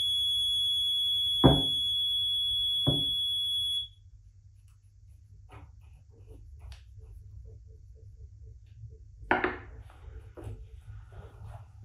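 A steady high-pitched electronic alarm tone from a control panel during a solenoid test sounds for a few seconds with two sharp clicks, then cuts off, leaving low hum and scattered faint taps.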